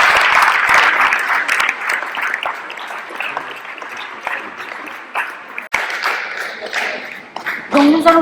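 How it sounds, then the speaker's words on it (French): At a local association awards gathering in Guer, an audience gives loud, dense applause that fades and swells in waves, with a louder burst of clapping near the end. "Et on peut encore les applaudir."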